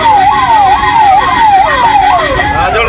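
An ambulance siren wails loud and close as it clears traffic in Rajapalayam, the tone sweeping steadily up and down in repeated cycles.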